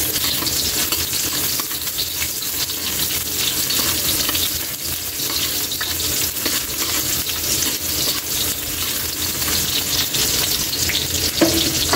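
Onions sizzle and crackle steadily in a pan of frying tuna, a dense, continuous hiss that carries on alone and up close, with occasional stirring scrapes.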